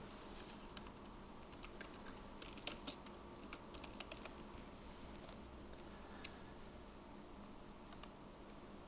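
Quiet, steady typing on a computer keyboard, with irregular soft key clicks over a faint hiss of room noise.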